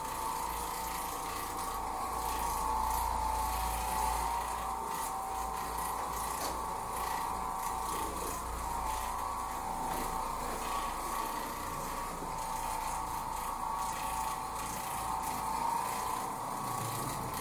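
An Oreck Orbiter floor machine scrubs carpet in a mobile home, producing a steady motor hum with a continuous brushing, rubbing texture that stays even throughout.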